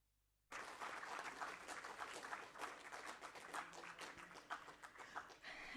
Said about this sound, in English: please give NU and yourself a warm round of applause